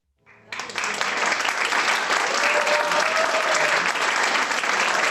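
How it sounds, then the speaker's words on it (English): Audience applause at a live show fills the space, swelling within the first half-second into steady, sustained clapping that holds loud and dense to the end. "I would also ask for another applause"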